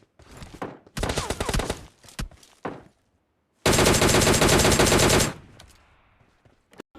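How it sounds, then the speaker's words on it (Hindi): Video game gunfire in PUBG Mobile Lite: bursts of rapid automatic fire, a short stretch of shots, scattered single cracks, then a long sustained burst that cuts off and trails into quiet. "पहले मैंने फायरिंग स्टार्ट कर दी थी"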